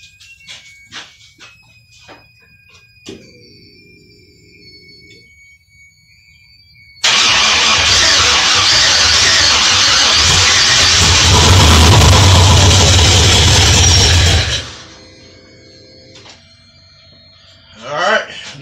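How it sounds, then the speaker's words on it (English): A 1981 Oldsmobile Cutlass Calais fitted with an LS3 6.2 V8 cranks and catches on its first start, roaring loudly for several seconds before cutting out. Clicks and rattles come before and after, along with a voice. "This is attempt 2 to get it started on the 81 Cutlass."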